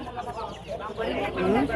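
Chickens and chicks cluck and murmur close by at the Savar bird market in Bangladesh, a short burst of busy, chattering fowl calls.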